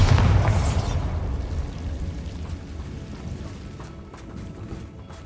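A Bombarda spell in Hogwarts Legacy detonates with a loud, deep boom at the start, then rumbles and crumbles away over several seconds in a mine setting.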